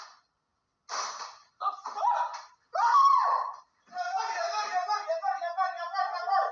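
A game streamer screams when a handgun is pointed at his face, with several loud strained vocal bursts and a rising shriek, then sustained agitated yelling, close and alone without music.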